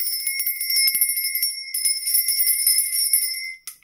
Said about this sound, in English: Okay, but I'm going to get out my bell.